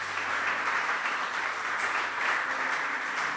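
A church congregation applauds during a sermon, giving steady, even clapping that sounds fairly distant and blends into a continuous wash.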